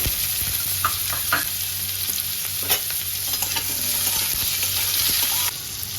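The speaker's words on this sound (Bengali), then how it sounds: "বড়া ভাজার তেলের মধ্যে আমি একটা শুকনো লঙ্কা আর একটু সর্ষে ফোড়ন দিয়ে দিলাম কেটে রাখা আমগুলো দিয়ে দিলাম" Mango pieces frying in oil with dried chili and mustard seeds, a constant loud sizzle with occasional stirring scrapes and clinks, close up and without speech.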